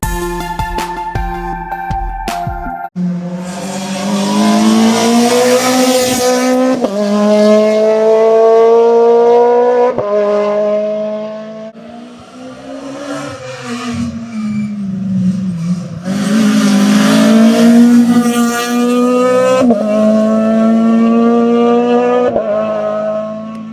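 Peugeot rally cars race past at a rally event, engines screaming loud and close with rising and falling pitch as they shift gears, several passes in succession with high revving and brief tire noise.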